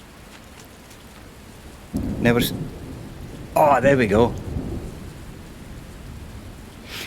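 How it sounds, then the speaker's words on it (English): Thunder and rain in the bus-driving video game The Bus: steady rainfall throughout with two loud rumbling thunder crashes, the second longer and rolling, while someone speaks briefly over it. "I only came out to have a listen to the thunder"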